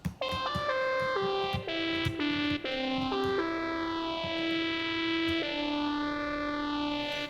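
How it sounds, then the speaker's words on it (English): A distorted, gritty lead synth in Soundtrap plays a simple stepping melody with swooping pitch bends, loud and continuous for several seconds, with no voices. "I'm going to use the dirty lead here, and the melody I'm going to play is going to be like this"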